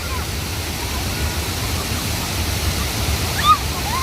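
Balmuri Falls waterfall near Mysore rushing steadily, a dense broadband roar of falling water filling the scene with a brief splash near the end.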